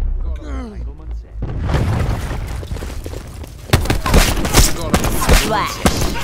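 A cluster grenade in Call of Duty: Black Ops 4 sets off a rapid spray of booms and thuds after a quiet opening, with a second, louder cluster of blasts midway, mixed with game voice lines.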